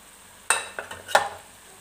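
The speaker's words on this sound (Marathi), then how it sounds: "हे व्यवस्थित परतून घ्यायचं तेलामध्ये" Ground spices including turmeric, Kashmiri red chili powder, coriander powder and sambar masala are stirred into hot oil, giving a few sharp sizzling bursts and scraping strokes close by against a quiet background.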